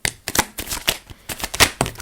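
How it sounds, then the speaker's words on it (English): Tarot cards being shuffled by hand in a series of crisp, papery riffling bursts with short pauses between, close and fairly loud, no talking. "let me just shuffle that out"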